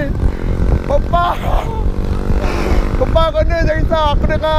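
Superbike motorcycle engine while riding, a loud close drone with rising and falling revs and shifting pitch, mixed with wind rush and singing voices over it.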